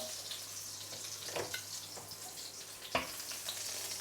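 Raw ginger and fresh coriander sizzle steadily in a heated pan while braised pork leg is being prepared, with a constant hiss and a few brief clatters and stirring sounds, no voices.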